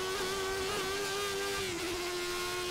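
A Formula 1 car in the F1 2013 racing game holds a loud, steady high engine whine with a strong tonal drone that wavers slightly in pitch, continuous and without talk.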